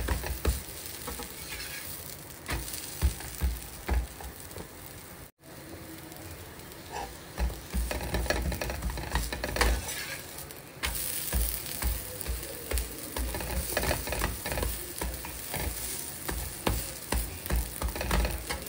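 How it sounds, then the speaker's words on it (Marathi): An aloo paratha roasts on a hot pan with ghee or butter, turned to cook both sides, giving a steady close sizzle with soft scraping stirs and small pops throughout, no talking. "पराठा मी केलेला आहे आणि दोन्हीकडून छान शेकून घेऊ पण याला"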